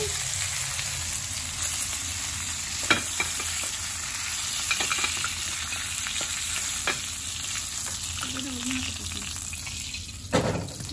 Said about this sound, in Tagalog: Utid muna natin ang ating karne dito sa kawali sa mainit na mantika.